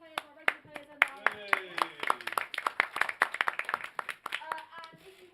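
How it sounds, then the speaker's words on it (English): A small audience at a gaming event claps in an uneven, fairly close patter of separate hand claps, with voices talking over it. "Can we have a quick round of applause for our ticketed players, our regular players, and our..."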